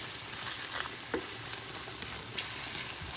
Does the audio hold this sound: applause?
no